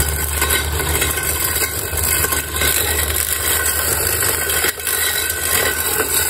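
A battery-powered DIY electric grass trimmer runs steadily and loudly at close range, its constant motor drone and cutting noise continuing without pause except for one brief dip near the end.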